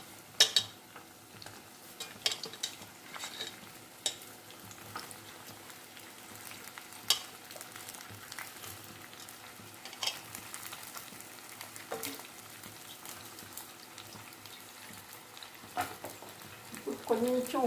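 Eggplant pieces frying with onion in a pan for gutthi vankaya pulusu, a quiet steady sizzle broken by scraping stirs and occasional utensil clinks against the pan.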